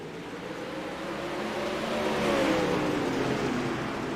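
A field of race cars in an iRacing league heat roars off at the green flag, a broad engine wash swelling steadily louder over several seconds with no talk.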